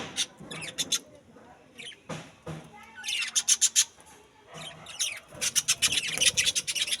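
Pet birds in a cage chirp and rustle while being fed tulsi leaves, bursts of rapid close chirping with scratchy movement in between, no talk.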